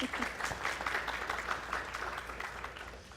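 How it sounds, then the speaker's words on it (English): An audience at a Jewish wedding trends event in Cleveland applauds a speaker. The clapping is steady and dense, filling the room for about three seconds at moderate distance. "Please give a round of applause for Eileen."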